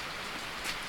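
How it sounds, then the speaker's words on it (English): Steady rain falls outdoors on a cold day when snow is nearby, a soft continuous hiss of drops with no voices, faint and even throughout. "Come out of the rain."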